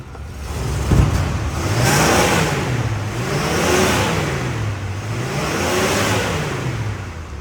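A 1982 Oldsmobile Delta 88 Royale with only 8,900 original miles runs steadily nearby, its engine rising and falling in smooth repeated revs with a constant whirring hum and no talking.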